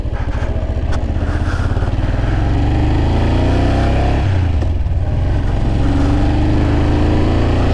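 A motorcycle received for free, needing turn signals and a rear brake adjustment, runs loud and close while being ridden, its engine droning steadily with a noticeable dip and shift in pitch partway through.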